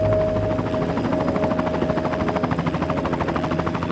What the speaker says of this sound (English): The helicopter has to be small enough to land on the tiny helipad on top of the lighthouse